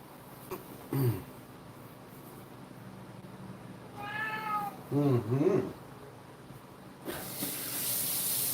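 A pet cat meows indoors, a couple of short drawn-out cries spaced a few seconds apart and fairly close, with a faint earlier chirp and a hissing spray sound rising at the end.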